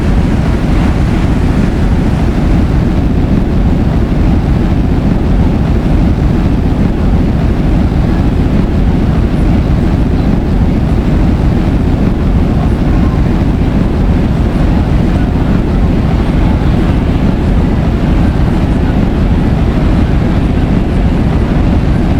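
Orbitae rocket engines, with one engine out and six still burning, roaring through ascent past max Q as a loud, continuous, dense low-heavy rumble with no breaks or voices.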